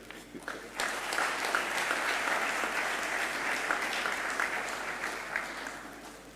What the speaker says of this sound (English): That clap was reassuring.